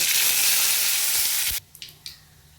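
Mustard seeds, dried chilli and curry leaves frying in hot oil, a loud, dense sizzle close up that suddenly drops away, followed by a few brief crackles and pops.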